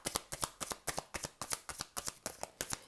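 Tarot cards riffle-shuffled over and over, each pass a crisp, close fluttering burst in a steady rhythm of about a dozen bursts, with no voices.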